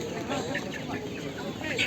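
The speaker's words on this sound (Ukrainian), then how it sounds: "Є різні, різні, різні кури" Hens cluck and murmur in the background at a market in Nadvirna, Ukraine, while people talk over them, a busy, continuous farmyard chatter.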